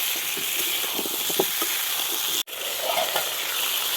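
Potatoes for Kolkata-style aloo dum biryani frying in a pan, a steady bright sizzle throughout with a short dropout midway and faint stirring sounds, no voices.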